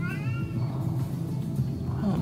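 A cat meows in the RimWorld video game, a few harmonic calls early on, set against a steady low rumble of game background sound.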